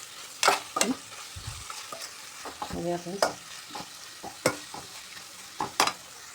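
Coconut powder stirred into jackfruit curry frying in a pan, with scattered scraping strokes of a spoon against the pan and a faint sizzle underneath, close and fairly quiet with no speech.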